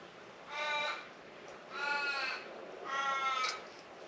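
Three harsh crow caws in a slow, evenly spaced series, each lasting about half a second, moderately loud and fairly near, with no other sounds around them.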